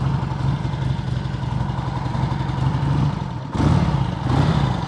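An Ironhead XLCR motorcycle engine idles while warming up, a loud, steady low rumble that dips briefly and then pulses a little stronger toward the end.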